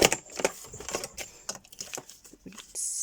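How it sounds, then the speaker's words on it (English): A paper trimmer slices through a handmade card, giving a short run of close, crisp clicks and scraping cuts as the blade slides along, ending with a brief hiss. "I'll do it with the trimmer this time"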